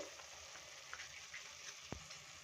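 Onion manchurian fries in a pan, a faint steady sizzle with a couple of small clicks of a utensil against the pan.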